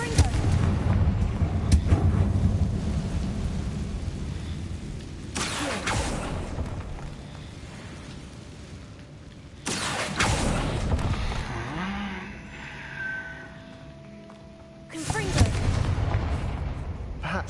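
Blasting-spell explosions from a Harry Potter video game, several heavy booming bursts at intervals with rumbling tails, loud and close over background game ambience.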